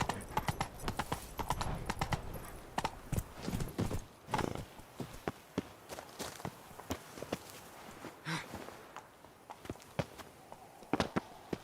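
Roach the horse's hooves clip-clop steadily in The Witcher 3, a brisk rhythmic walk to trot with occasional snorts and whinny-like sounds, close and continuous.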